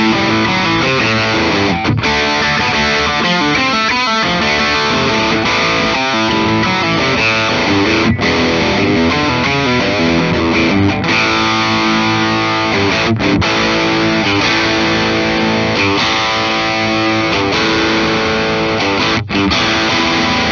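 A heavily distorted 2010 Gibson Custom Shop electric guitar plays loud chords and riffs continuously, with brief pauses between phrases and no talking.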